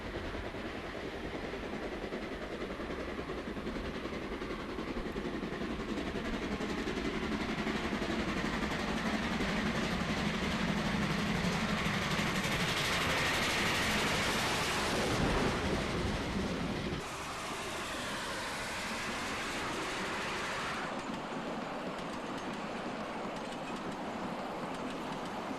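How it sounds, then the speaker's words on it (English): A heavy vintage passenger train hauled by three locomotives labours steadily uphill, a continuous deep rumble with engine roar and rattling wheels, loud and close, easing slightly toward the end. "A rare sight is a passenger train climbing the grade from Pukeowari to Shakespeare Road"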